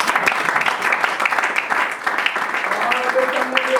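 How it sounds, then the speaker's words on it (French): Applause and cheering from a church congregation at a lively French-language service, dense steady clapping filling the room with voices mixed in and a brief sung or sustained tone near the end. "On acclame le Seigneur."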